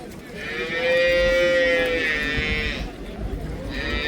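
A young grazing cow at the Karabulak livestock market lets out one long, loud, drawn-out moo, with market noise behind it.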